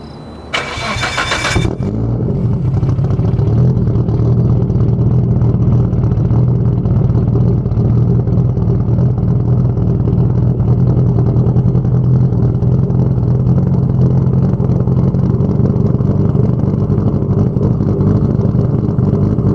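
A 600 hp Nissan Skyline R32 GT-R engine cranks and catches with a brief burst, then settles into a loud, steady, deep rumble that runs on without pause.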